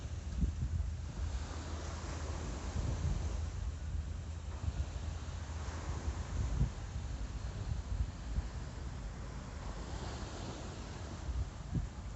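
Ocean waves wash in at the seaside under steady gusty wind that buffets the microphone, with a broad continuous rumble and no talk.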